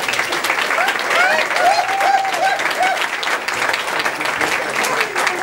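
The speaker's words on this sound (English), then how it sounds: "have one more round of applause for them all" An audience at a bowling hall of fame induction gives a sustained round of applause for the inductees, dense steady clapping with a few cheers rising above it, fairly close and loud throughout.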